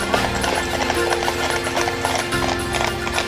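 A hitch of six huge draft horses clip-clops steadily while pulling a specially built twelve-passenger wagon, the hoofbeats dense and continuous under a busy mix of other sound.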